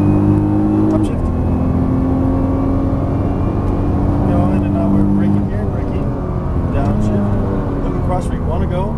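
A Nissan GT-R accelerates hard onto a straightaway on a Las Vegas track, its loud engine drone rising in pitch with distinct upshifts breaking the climb, heard from inside the car.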